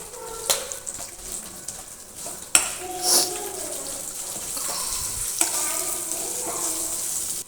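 Spices for tempering crackle and sizzle in hot oil for tomato chutney, a continuous hiss punctuated by sharp pops and spoon clinks, with faint background sounds.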